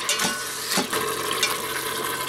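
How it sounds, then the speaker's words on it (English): Ground meat sautés in an Instant Pot set to saute, with a close sizzle and hiss broken by a few scraping stirs and soft clacks of a utensil against the pot, and no voices. "So right now I am sauteing my ground meat in here"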